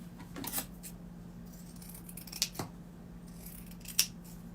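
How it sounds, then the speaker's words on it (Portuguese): Scissors snipping through felt, a few quiet crisp cuts spaced irregularly over a steady low hum, with no talking. "Vou costurar não, vou cortar."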